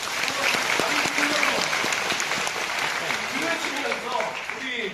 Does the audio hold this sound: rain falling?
no